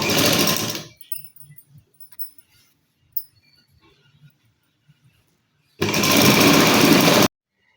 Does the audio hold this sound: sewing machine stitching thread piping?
yes